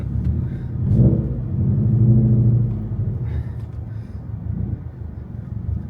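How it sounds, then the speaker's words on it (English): Subaru WRX STI with a modified exhaust revving, a deep, loud rumbling engine note that swells in two rising surges before settling back to a throaty idle, recorded close. "I'd like this exhaust sound for about an hour"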